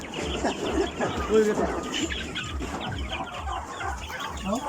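Chickens cluck and mutter in short, irregular bursts close by, with people talking over the birds throughout.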